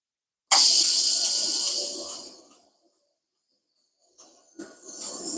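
A TIG welding arc, set slightly too hot, sizzles with a sharp, steady hiss that fades away, then crackles again in short bursts after a pause.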